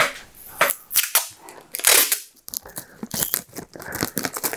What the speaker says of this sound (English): excuse the horrible tapey noise